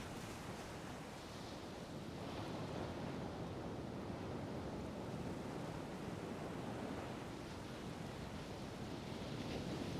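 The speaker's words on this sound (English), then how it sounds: "The softly crashing waves are the sonic foundation of the shore." Ocean waves crash softly on a shore, a steady wash of surf rising and falling gently with a breath of wind over it, heard alone.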